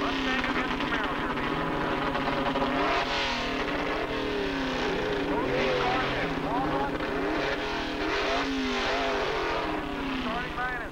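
Small block Ford Mustang and Chevy Camaro drag racing down a quarter-mile strip, a loud continuous engine roar with rising and falling revs through gear shifts, while an announcer talks over it throughout.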